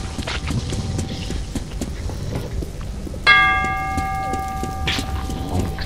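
A bell in Metro 2033 is struck once partway through, ringing out with a clear, sustained metallic tone that slowly decays over a background of muffled clopping and rumbling.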